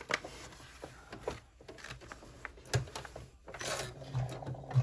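A sewing machine runs top stitching on an 8-slot credit card slot piece, sounding in short uneven bursts of motor hum and needle clatter with brief pauses and handling clicks between them.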